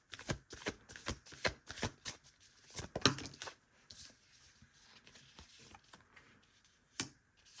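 Tarot cards being shuffled up close in a run of quick, crisp riffling bursts, busiest in the first few seconds, then sparser flicks with a final sharp snap near the end; nobody speaks.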